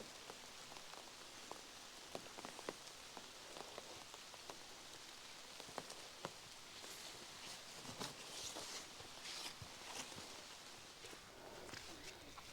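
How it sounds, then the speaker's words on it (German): Steady rain patters on surfaces at a lakeside campground on the Glubig lake chain near Wendisch Rietz, a continuous dense hiss with scattered sharper drops throughout. "Grau in Grau und Regen."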